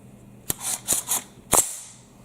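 A Glock pistol-caliber carbine, not well oiled, clacks through four or five sharp, close metallic snaps as a round is chambered, with no talking.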